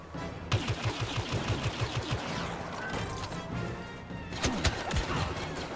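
Gunfire and explosive blasts from the Star Wars Battlefront video game, with a rapid run of shots early on, then a smart rocket firing: a sharp, loud burst near the end over dense, continuous battle noise.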